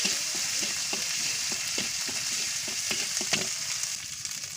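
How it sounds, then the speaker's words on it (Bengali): A spice paste of cumin, garlic paste and chopped onion fries in oil in a kadai, giving a soft, steady sizzle broken by repeated stirring scrapes of a spatula, with no voices. "ভালো করে কষিয়ে নেব মশলাটা"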